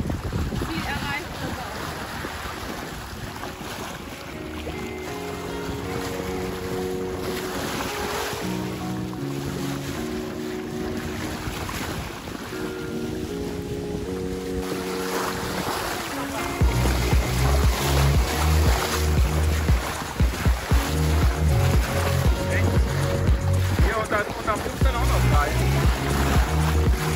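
A sailboat with a poled-out genoa runs through wind and waves at sea, with constant wind rush and water noise throughout. Music plays over it, and the sound grows louder and fuller partway through.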